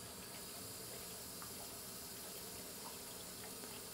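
Water steadily filling a GX600/GX1000 reverse osmosis system's membrane and pre-filters, a continuous broadband hiss and rush of flowing water with faint gurgles, close and even throughout with no talking.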